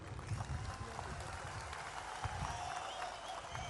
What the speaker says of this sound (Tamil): இவங்களுக்கு ஒரு கை கொஞ்சம் கைத்தட்டல் கொடுங்க